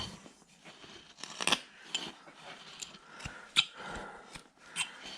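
A carving knife cuts down the shoulder of a small wooden figure, giving sharp, dry scraping and crunching strokes in an uneven rhythm, close up and fairly quiet, with no talk.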